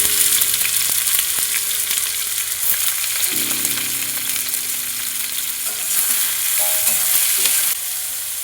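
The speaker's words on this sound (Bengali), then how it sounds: "পেঁয়াজ একটু ভালো করে লাল লাল করে ভেজে নেব।" Chopped onions fry in very hot oil in a kadai for a fish do-pyaza, a loud, continuous crackling sizzle up close with a few faint stirring knocks and no talking.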